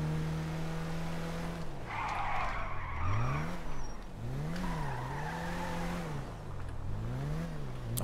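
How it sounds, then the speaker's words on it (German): A car in the video game GTA V revs and slides, its engine pitch rising and falling in repeated swoops while tires squeal in a sustained skid, loud and up close with no talk. "Auch ein nettes Auto hier."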